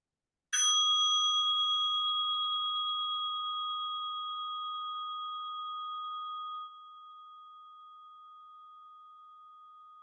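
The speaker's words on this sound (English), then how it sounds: "Just lightly tap the edge of the bell while you're holding it up straight." A meditation bell lightly tapped once on its edge, giving a single clear ring that sustains as a pure, slowly fading tone for many seconds in a quiet room.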